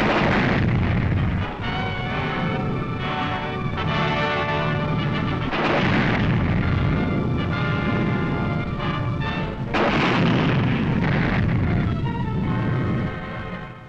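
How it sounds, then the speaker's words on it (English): Tank barrage fire during the 1945 Canadian advance on Emmerich along the Rhine, heard as loud, continuous booming and rumbling with repeated heavy blasts and no talk. "A tank barrage supports the move."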